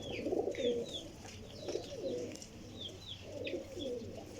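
Repeated low, burbling coos from a Teddy pigeon come in three or four close, gentle phrases, with faint high bird chirps scattered between them.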